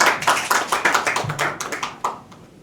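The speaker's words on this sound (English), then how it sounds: "Let's clap for him." Small audience at a gathering clapping for former members of parliament, a few distinct hands beating an uneven rhythm up close, brief and fading out after a couple of seconds.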